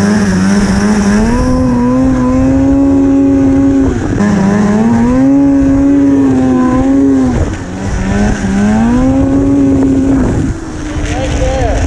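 A 1998 Arctic Cat snowmobile engine pulls hard and loud, its tone climbing and dipping in surges as the machine accelerates past speed, with a voice briefly heard over it.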